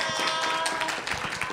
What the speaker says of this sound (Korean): 박수로 좀 부르시죠